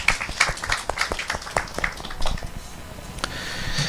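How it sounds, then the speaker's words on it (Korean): A church congregation claps during a Sunday sermon, giving scattered, uneven applause that stays fairly faint and fades into a light patter. "순종에 우리 박수를 보내드리십시다"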